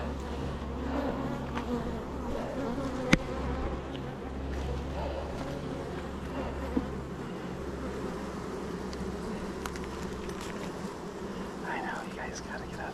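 Honey bees buzzing during a beehive inspection: a steady, close swarm hum with individual bees droning past and a few sharp clicks from hive handling.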